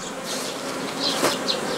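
Honeybees buzz around the hives of an apiary while collecting pollen, a steady, fairly soft drone with a few closer passes rising briefly above the hum. No one speaks.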